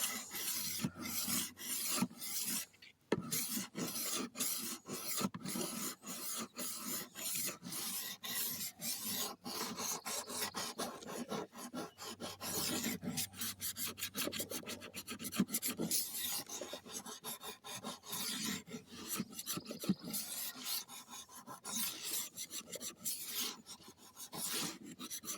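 A rolling knife sharpener grinds a blade against a 1000 grit disc, giving a dense, continuous raspy filing sound with quick repeated strokes, close and fairly quiet, no voices.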